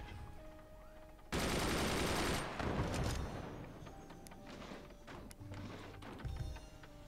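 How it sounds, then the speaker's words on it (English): Cannons fire in the fort-building strategy game Forts: a loud, roaring blast lasts about a second, then smaller explosive cracks and rumbles trail off into busy battle noise. "I'm gonna get shot by two cannons."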